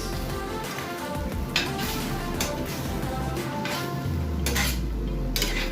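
Beef, young corn and vegetables being stirred in a pan, with steady utensil scraping and clinking against the pan close up and a faint sizzle underneath, continuous throughout.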